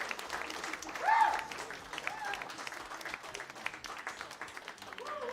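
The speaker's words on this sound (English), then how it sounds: "Give yourself a huge round of applause." A live comedy show audience claps and cheers in a continuous round of applause that swells briefly near the start, with voices heard over the clapping.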